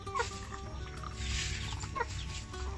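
A hen in a farm coop makes low, rough clucking and snore-like rasps on a cold-season day, steady through the moment with a couple of sharper calls standing out, fairly close and moderately loud.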